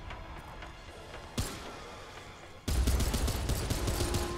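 Gunfire in the video game Remnant 2, beginning with a single sharp shot and then switching to a dense, loud burst of rapid fire that runs to the end.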